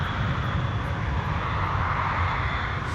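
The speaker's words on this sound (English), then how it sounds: "Avianca 52 takes off from Medellin with its maximum allowable fuel load." Colombian airliner Avianca Flight 52 taking off from Medellín with a maximum fuel load, its engines giving a loud, steady roar with no voices over it.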